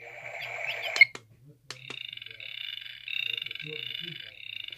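A built-in sleep-sound mode on an alarm clock plays frog croaking through a small, tinny speaker, with a steady pulsing trill following a few clicks.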